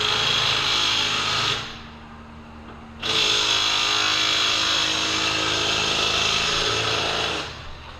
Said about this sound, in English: that's pretty impressive for a little 3/8 gun to take lug nuts off